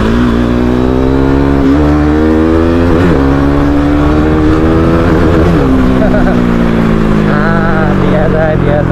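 A modified motorcycle engine revs loudly and continuously up close, its pitch rising and falling as the throttle is worked, with no break in the roar throughout.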